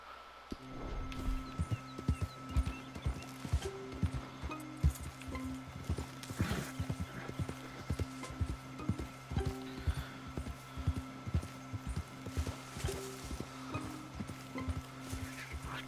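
Steady horse hoofbeats clip-clop in an even rhythm throughout, with a faint whinny and a low constant hum underneath, in the video game Red Dead Redemption 2; no talking.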